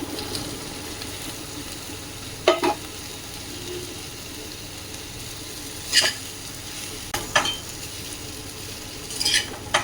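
Vegetables and spices are stirred in a pot for vegetarian pulao over a low, steady sizzle, with four or five sharp spoon scrapes and clanks against the metal at irregular intervals.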